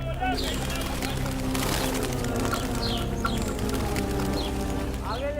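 Birds chirp and call in short bursts over a busy background with music and narration.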